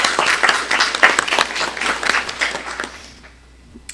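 An audience at a chamber of commerce breakfast claps in a burst of close, crisp applause that tapers off into near silence at the end.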